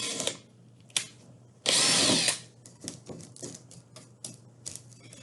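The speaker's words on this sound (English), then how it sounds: "Once I have my holes drilled" A power drill bores holes through wood for a drawer-knob coat rack, giving short whirring bursts and one longer loud run, followed by scattered taps and clatter of handling.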